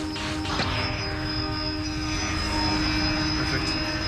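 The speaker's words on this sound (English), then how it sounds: "For takeoff, the propellers act like they do on a normal plane." Propellers of an airborne wind-power kite, a tethered wing resembling a model airplane, buzz loudly and steadily at takeoff outdoors in strong wind, a continuous droning whine with no talk.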